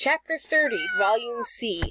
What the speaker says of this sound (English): Sorry, that's our cat.